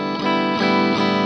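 An electric guitar plays through a new Fender effects pedal with its high-frequency control boosted, giving three bright, ringing strummed chords that sustain and overlap, loud and close with no talking.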